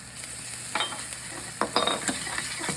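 Grated garlic being stirred into hot oil in a frying pan: a steady low sizzle under a few quick scraping strokes of a utensil against the pan, close and moderately loud, with no talking.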